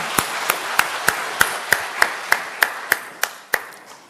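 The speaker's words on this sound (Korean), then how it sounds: "하나님께 영광의 박수를 보내겠습니다" A church congregation claps in unison, about a dozen sharp, evenly spaced claps in a steady rhythm that fade at the end, with no voices over them.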